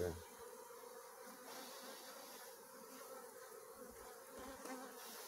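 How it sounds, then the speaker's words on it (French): Steady, dense buzzing of many honeybees swarming close by at a hive, a continuous droning hum with no talk. "Il y a quelques abeilles qui viennent sur mon téléphone,"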